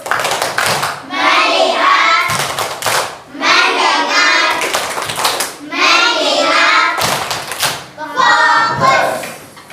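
A classroom focus clap routine in which pupils answer with loud rhythmic bursts of hand claps, several clustered patterns repeated about every two seconds. Children's voices chant between the clap bursts, and the whole group sounds close and energetic.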